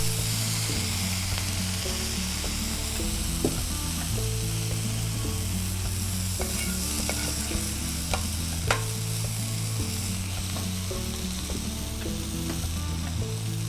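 Kamaru, mole crickets, sauté in a pan with vinegar, giving a constant crackling sizzle with sharp scraping and stirring clicks against the metal, and a low hum running beneath.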